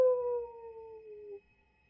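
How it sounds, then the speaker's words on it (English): A single wolf howl rises and then slides slowly downward as one sustained, fairly clean tone about a second and a half long before fading into silence, moderately loud and heard alone, set in a tabletop fantasy game scene. "you wake up to the sound of a wolf"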